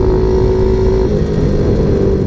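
A pocket bike engine with an electric turbo holds a loud, rough rev at close range, dipping slightly midway and then droning on.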